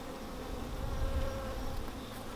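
Honey bees buzz steadily around a hive entrance as workers leave the box on reorientation flights, a continuous close insect drone with no voices.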